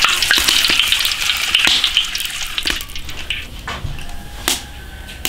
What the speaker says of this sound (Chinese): 油温七成热，把这鱼炸一下。